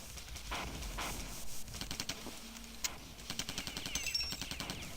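Assault rifle fire in the arcade game Total Carnage, heard as rapid chains of crisp, fairly quiet shots over a busy game soundscape that speed up into a dense rattling burst toward the end.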